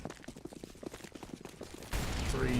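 AK-47 fire in a Counter-Strike match, a rapid string of sharp shots followed by a louder burst near the end, with no talk.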